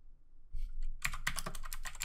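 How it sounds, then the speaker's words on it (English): Rapid clicking keystrokes on a computer keyboard while entering search phrases in a Google Feud browser game, a burst of close, busy typing that starts after a few soft thumps, with no voices. "I'm just typing in random stuff."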